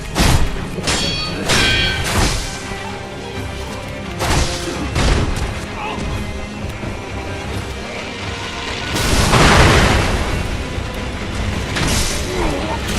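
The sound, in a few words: firecrackers prosthetic tool bursting in the video game Sekiro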